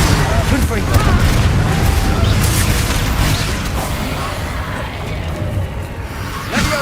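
A Confringo explosive spell going off in Hogwarts Legacy, a dense booming blast with a sustained rumbling roar under combat noise and talk.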